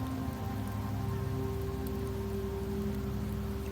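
Steady rainfall in the Wuthering Waves game, set in rainy Septimont, a constant even patter spread across the whole stretch with low tonal music underneath and no voices.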